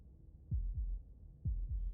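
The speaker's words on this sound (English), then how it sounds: "That was the sound of a heartbeat," Heartbeat sound effect in the video game Slay the Princess: two paired low thumps, each a lub-dub double beat, deep and muffled, with a quiet hum underneath and no talk.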